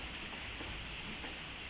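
Steady rain falls outside as an even, dense hiss that continues without a break through the short stretch.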